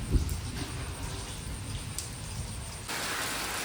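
Dense, steady rain hisses without pause, a broad wash of drops pattering hard on surfaces nearby.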